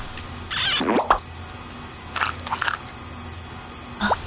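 Frog croaking in the video game Giftpia, two or three short raspy croaks in bursts over a steady ambient hum, with no voices.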